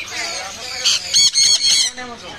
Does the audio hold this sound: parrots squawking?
yes